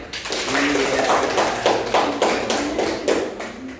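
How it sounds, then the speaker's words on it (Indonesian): Students in a classroom clap their hands in a quick, even rhythm of about a dozen sharp claps, close and fairly loud, with voices underneath. "Mana tepuk tangannya?"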